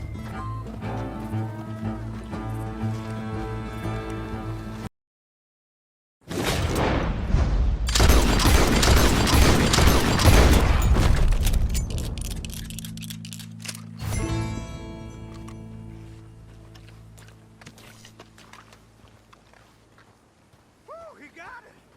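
Gunfire in the Red Dead Redemption 2 story mode, Western game setting: loud booming shots and a burst of heavy fire crash in after a short silence, then fade under music and voices talking.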